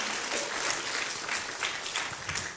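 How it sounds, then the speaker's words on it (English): Audience applause at an information session, a dense, steady wash of many hands clapping at moderate distance, continuous throughout with no clear voices over it. "let's give a round of applause for them"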